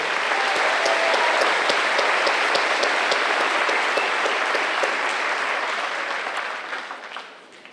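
Sustained audience applause at a school graduation ceremony, dense even clapping across a large crowd that holds steady and then tapers off at the close.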